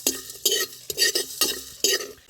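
Whole spices such as coriander seeds, cumin, fenugreek, cardamom, cloves and cinnamon are stirred and dry-roasted in a pan for village-style garam masala, with rhythmic scraping strokes and light rattling about every half second.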